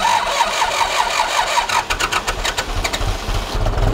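An Ursus C-360 farm tractor engine cranks for a couple of seconds, then catches and fires into a rough, pulsing idle that builds louder, close up with no talk.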